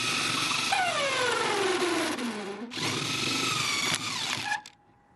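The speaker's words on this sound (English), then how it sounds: "So once you have the impact wrench ready with the 19mm, you just simply install." An impact wrench with a 19mm socket drives bolts into a custom basketball backboard bracket, a loud sustained whirring and buzzing motor whose pitch falls and rises under load before cutting off at the end, close up with no talking.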